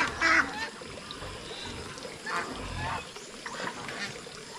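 Geese honk outdoors on a farm after rain, with a few short honks near the start and again near the middle. Water trickles in the background, and a voice can be heard in places.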